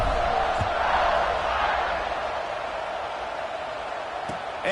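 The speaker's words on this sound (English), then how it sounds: "this crowd is buzzing after that last score" A stadium crowd in the College Football 26 game produces a broad, steady murmur and roar. It rises slightly then settles, with a few faint thumps in the background.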